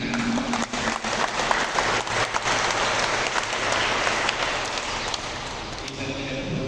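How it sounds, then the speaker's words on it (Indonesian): Guests at a church wedding blessing clap together, a dense, continuous round of applause filling the room, with voices mixed in underneath. "Kita beri tepuk tangan."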